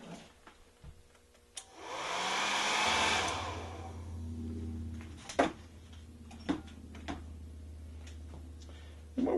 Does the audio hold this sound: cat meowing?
no